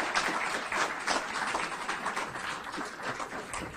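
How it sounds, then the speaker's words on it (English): Audience applause at an awards banquet: a broad, dense wash of clapping that carries on steadily for several seconds, fairly loud, with no talking over it. "How about a big round of applause, please?"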